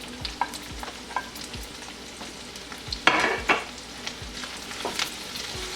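Freshly ground ginger garlic paste sautés in a pan with a close, continuous sizzle and regular spatula taps and scrapes, including one louder stir burst partway through, with no voices.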